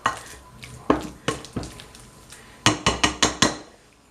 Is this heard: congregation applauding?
no